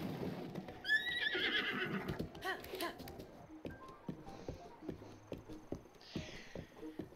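A horse in Breath of the Wild whinnies loudly, with a rising and falling neigh near the start, followed by clip-clopping hooves and a second, fainter whinny later.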